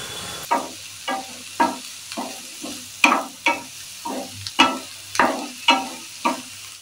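Garlic and green chillies frying in a pan, with a steady sizzle under about a dozen sharp stirring scrapes at an even, brisk rhythm, close and moderately loud, no voices.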